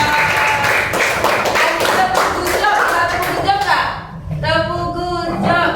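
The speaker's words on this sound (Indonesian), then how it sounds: "Tepuk tangan buat teman kita, good job." Crowd of children clapping together in a classroom, steady applause with lively voices chattering and calling out over it, near and fairly loud.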